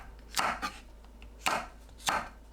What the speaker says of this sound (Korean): 청양고추를 어슷 썰어주세요.